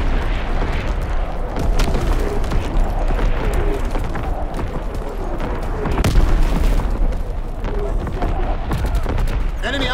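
Battery bomb strikes in a shooter video game, a dense, continuous barrage of booming explosions and gunfire layered over each other, loud and rumbling, with a heavier burst midway.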